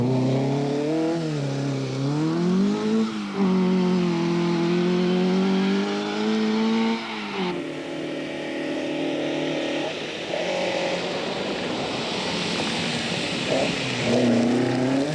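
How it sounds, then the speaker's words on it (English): Rally cars in the National B Marion Rally roar past with loud, continuous engine noise, revving and shifting pitch as they accelerate through gears, one car after another, no talking heard. "Now was the time for the cars in the National B Marion Rally to make an appearance."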